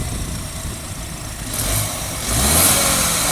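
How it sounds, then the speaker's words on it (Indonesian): A BMW 320i turbocharged inline-four engine runs steadily at idle, then revs up twice, the second rise louder and sustained, heard close with no talking. "Kita dengerin dulu suara mesinnya."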